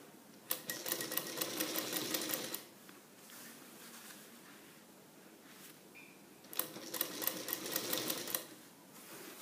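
A sewing machine stitches piping onto a neckline in two short bursts of rapid, even clatter separated by a quieter pause, heard close and fairly faint.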